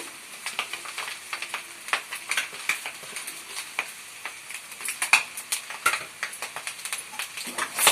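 Noodles being stirred with salt, turmeric and chili powder in a pan, giving a steady run of scraping, clinking and soft sizzling strokes close by, with no talk.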